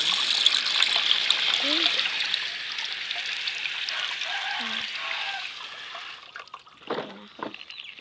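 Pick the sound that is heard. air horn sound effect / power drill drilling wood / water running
water running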